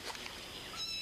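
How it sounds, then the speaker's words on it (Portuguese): Faint, high kitten meows from a cartoon scene, a short thin mewing call rising near the end of a quiet, brief moment. "Que barulho é esse? Parecem gatinhos."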